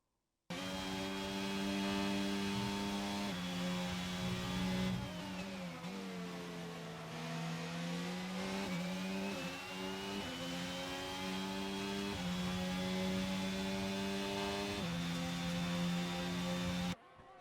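Formula 1 cars racing in a video game, a loud, steady high-pitched engine whine with overlapping harmonic lines that dip and rise as the cars shift and pass, continuous throughout with no talk.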